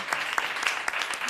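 A studio audience claps at a live event, a brisk, fairly close burst of applause lasting only a moment, with a faint voice underneath.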